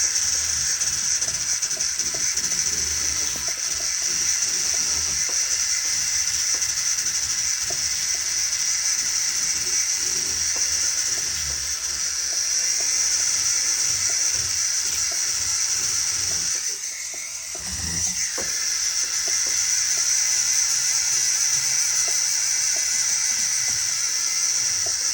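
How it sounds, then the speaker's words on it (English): A polishing brush on a jeweler's polishing machine works a patterned ring, giving a steady, continuous whir with mechanical rattle that holds for the whole stretch, dipping briefly near the end. "All right, let's switch to a polishing brush."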